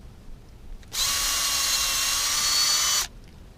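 A power drill whines steadily for about two seconds, boring a tap hole into a maple tree, loud and close, starting and stopping abruptly against a quiet background.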